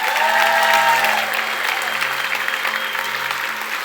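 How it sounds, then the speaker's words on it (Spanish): Church congregation in Santiago breaking into sustained, loud applause during a sermon, a thick even roar of clapping that continues for several seconds, with a voice briefly audible early on. "Si usted va a aplaudir porque lo está entendiendo, hágalo con todas las fuerzas."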